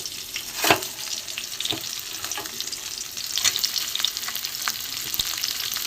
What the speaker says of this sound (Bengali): কাঁচা লঙ্কা টমেটো সবই দিয়ে দিলাম একটু ভালো করে ভেজে নেবো